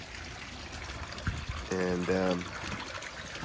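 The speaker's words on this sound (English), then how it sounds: "we're adding a little bit more water" Water trickles and splashes steadily into a koi pond during winter preparation, a continuous close pouring sound as someone speaks briefly over it.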